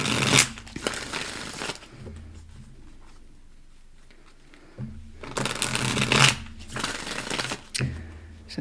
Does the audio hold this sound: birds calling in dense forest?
no